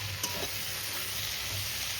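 Ivy gourd and prawn curry sizzles steadily in a pan while being stirred, a continuous close frying hiss with a soft scrape of the spoon near the start.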